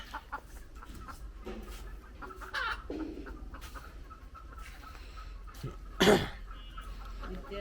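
Chickens cluck on a dairy farm that also keeps goats and cows, with scattered short calls over a steady low background hum and one louder, sharper squawk near the end.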